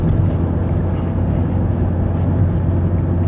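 A 2018 Wuling Confero with about 60,000 km on it climbs a steep uphill road in third gear on light throttle, giving a steady, low engine drone mixed with wind and road rumble, continuous and fairly loud with no talk.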